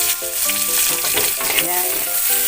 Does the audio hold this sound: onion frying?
yes